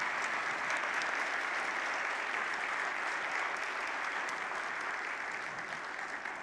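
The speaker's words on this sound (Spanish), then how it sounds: "Quiero un fuerte aplauso, por favor." Sustained, steady applause from the audience at the CEO Summit Open Innovation business event in Peru, a dense even wash of clapping that fills the whole stretch and fades slightly at the end, with no voices over it.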